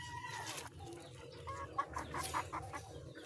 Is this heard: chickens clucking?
yes